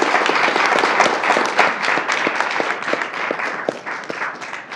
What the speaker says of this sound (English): let's give our guests one more round of applause.